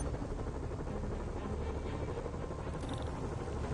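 A video game helicopter's rotor chops rapidly and steadily, a dense thudding drone that stays constant throughout with no voices.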